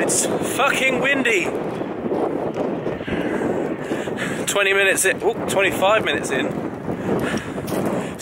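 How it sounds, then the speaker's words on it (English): Strong gusting wind on a mountainside, Mount Snowdon, roars steadily across the microphone, loud and continuous, while people talk over it. "It's fucking windy!"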